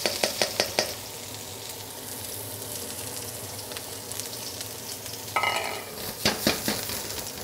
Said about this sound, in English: And I wanna fry these onions.